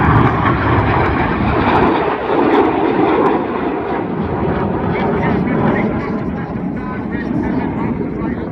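Red Arrows display jets of the Royal Air Force roar steadily overhead during a 2025 air show manoeuvre at Old Buckenham, a broad continuous engine rumble with a commentator's voice talking over it throughout.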